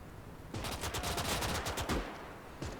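An anti-aircraft gun fires in the Gates of Hell war game, a rapid burst of about a dozen fairly distant, quiet shots in quick succession, followed by a single later report.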